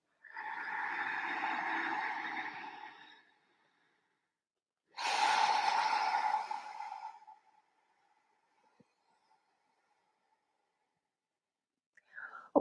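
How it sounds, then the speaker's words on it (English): During a yoga hip and lower-back routine, two long, breathy exhales are heard up close, each lasting a few seconds and separated by a pause of silence. "Exhale. You can exhale through the mouth if it feels good."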